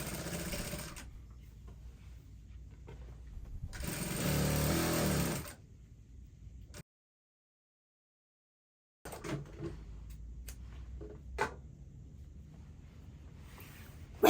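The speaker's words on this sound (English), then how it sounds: "Then you're going to stitch the center front all the way down to the crotch extension" A sewing machine stitches the center front seam of a jumpsuit down to the crotch extension, running in close, steady whirring bursts separated by pauses, including a complete silence near the middle.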